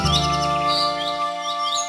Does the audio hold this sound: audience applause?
no